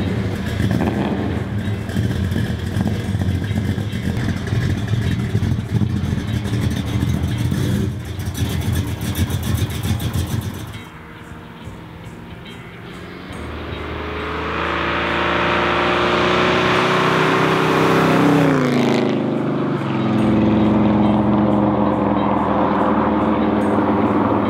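A 1968 Dodge Charger engine runs, loud and close: a steady rumbling idle at first, then after a brief dip a rising, revving roar that climbs and holds strong to the end.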